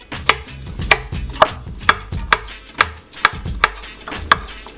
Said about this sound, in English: I am chopping up the carrots now.